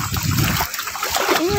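Floodwater in a flooded street splashes and sloshes continuously at close range, with uneven surges of churning water throughout.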